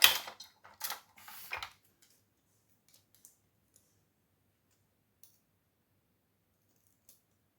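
Tape pulled off a roll for a sublimation key fob project, three quick rasping tearing strips in the first two seconds, then near silence broken by a few faint isolated clicks.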